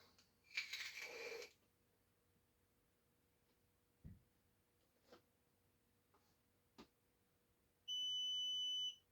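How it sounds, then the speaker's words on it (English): A few quiet clicks and taps, then a short bright electronic beep sustained for about a second near the end, from an RCBS digital powder scale weighing a rifle powder charge. "You hear that beep, it tells you it's correct"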